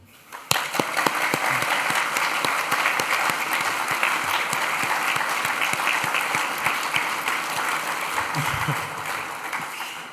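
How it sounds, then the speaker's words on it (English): Graduates and guests at a Games Institute graduation ceremony break into loud, dense applause that starts abruptly and holds steady for several seconds before easing off slightly. "give yourself a nice round of applause"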